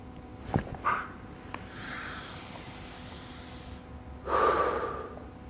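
Deep breaths during a morning diaphragm breathing exercise for the respiratory system: a couple of short sharp intakes early on, a softer airy breath in the middle, then a long loud exhale near the end, with no talking.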